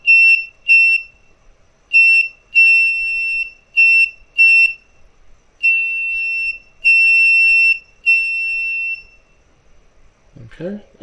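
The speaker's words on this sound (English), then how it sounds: "We're just getting the buzzer." A loud, shrill electronic buzzer sounds in a rapid series of short and longer bursts, stopping before a brief noise at the end.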